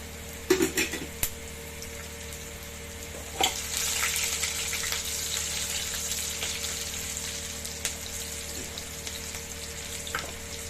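Dry red chillies, green chillies, chopped garlic and a bay leaf fry in hot oil for a daal with banana stem, giving a steady close sizzle with a few sharp clatters of a utensil against the pan near the start.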